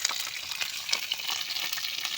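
Pieces of rabbit meat sizzle steadily in hot oil in a pan, a dense close crackle with small spits and pops, no voices over it.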